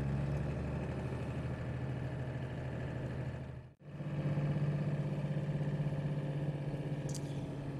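A full-size pickup truck engine drones steadily from inside the cab while driving on Arctic winter roads, a low even hum that dips briefly mid-way before resuming at the same level, with no talking.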